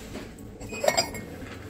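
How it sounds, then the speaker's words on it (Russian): A few light clinks of marble dishes around the middle of a quiet stretch, plates tapping against each other close by. "Вот такие красивые тарелочки. Мраморная посуда."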